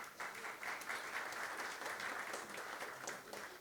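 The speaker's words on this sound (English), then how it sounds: "I think that deserves a nice round of applause there." An audience at an Airports Council International Airport Day event in the BVI claps together in a steady, even round of applause that lasts a few seconds, heard from a moderate distance with no talking.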